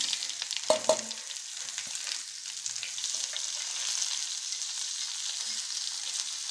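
Medium-sized onion, chopped, frying in a pan while being browned; a steady broad sizzle runs throughout with a couple of brief clinks early on, and no one speaks.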